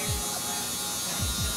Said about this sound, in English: Now I'm going to switch over to my Wahl Cordless Magic Clips, closed lever to continue the blend.